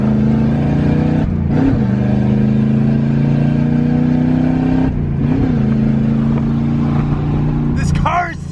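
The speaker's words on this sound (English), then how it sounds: "This car is so loud!" A Corvette with no exhaust revs hard, its loud, raw, throaty engine roaring continuously with a couple of brief dips between pulls, right up close.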